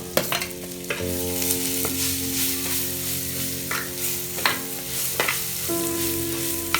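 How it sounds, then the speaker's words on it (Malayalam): Onions, shallots, green chillies and curry leaves sauté in a clay pot for a country chicken curry, a steady sizzle broken by several sharp scrapes and clacks of a stirring spoon against the pot, close and with no talking. "എന്നിട്ട് നമ്മൾ അരിഞ്ഞു വെച്ചിരിക്കുന്ന സവോളയും ഉള്ളിയും പച്ചമുളകും കറിവേപ്പിലയും ഇതെല്ലാം കൂടെ ഇട്ടിട്ട് നന്നായിട്ടൊന്ന് വഴറ്റണം"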